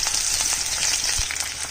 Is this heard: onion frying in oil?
yes